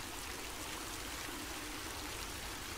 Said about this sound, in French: L'eau coule sur le marbre